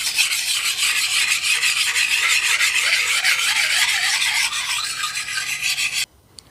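Machete edge sharpened on a medium grit stone with light pressure, producing continuous bright scraping and rasping strokes close up, ending abruptly after about six seconds, with no talk.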